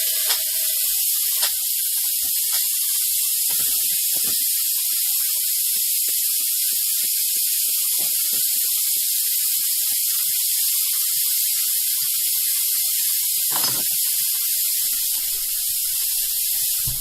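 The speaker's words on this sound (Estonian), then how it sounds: "Nüüd laseme õhu välja." Air hisses steadily out of an underfloor heating system as it is bled, a continuous broadband rush lasting the whole stretch with only a few faint clicks and knocks beneath it.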